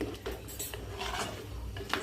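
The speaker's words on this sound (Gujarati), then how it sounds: "હવે આ બંને ગ્રેવીને સરસ એવી મિક્સ કરી દઈશું." A spoon stirs spinach gravy and paneer gravy together in a pan, giving faint, soft scraping and occasional light metal clinks at close range.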